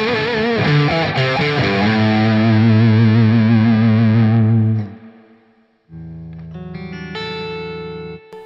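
Electric guitar played through a BluGuitar Mercury amp with a boost engaged, loud, thick and distorted sustained chords, a brief near-silent gap, then another driven phrase rings out alone.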